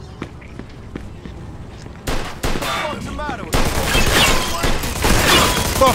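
Gunfire breaks out in a Mafia II shootout, beginning with sharp scattered shots and building into loud, dense bursts and sustained volleys in the final seconds, layered over game sounds and voices.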